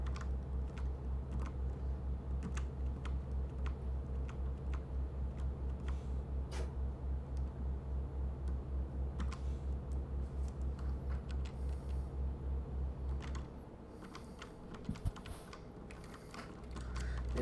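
Computer keyboard keys pressed while driving in Euro Truck Simulator 2: scattered, irregular clicks over a constant low engine drone from the game.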